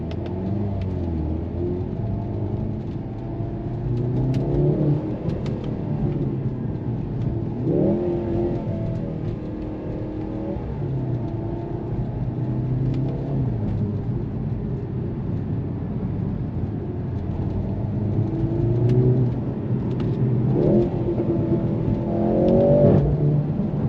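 A 2023 Mercedes-AMG C43 drives along with its exhaust rumbling and revving through gear changes, engine note rising and falling, with faint intermittent crackles and pops heard from inside the cabin.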